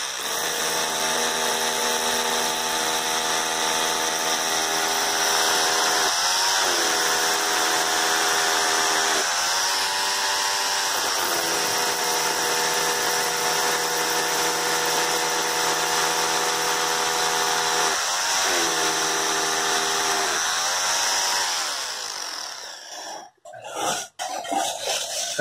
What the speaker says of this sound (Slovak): Takže Makita 2470, jedna z najlepších malých vrtacích kladivok.